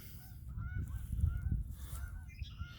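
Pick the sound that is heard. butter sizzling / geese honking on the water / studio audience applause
geese honking on the water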